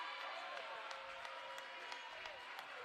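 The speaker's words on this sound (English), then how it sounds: "Falcon crowd now on its feet, making some noise here to my left" Basketball crowd at a varsity boys high school game, on its feet cheering and clapping, a broad steady roar with scattered sharp claps and whistles, heard from a distance.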